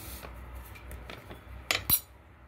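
A spoon stirs cumin into yogurt in a bowl, soft scraping followed by two brief sharp clinks of metal against the dish, close and quiet.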